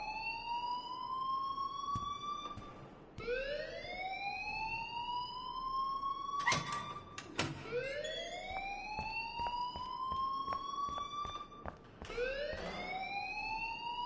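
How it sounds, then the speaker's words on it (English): A fire alarm rings in the Life is Strange video game, a loud repeating rising electronic wail that sweeps up again and again, with clicks and thumps between cycles and no talk. "please turn off that alarm since that's your job"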